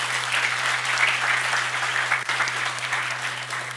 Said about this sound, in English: A round of applause for the guys.